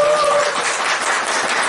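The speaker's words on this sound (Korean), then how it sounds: "큰 박수 부탁드립니다" An indoor audience claps steadily at a corporate seminar, a dense, even patter of many hands throughout.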